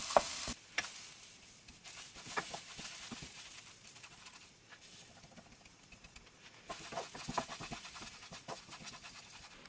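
Oats are dry-roasted and stirred in a pan, giving faint, soft rustling and scraping in uneven bursts over a quiet background, with no talking.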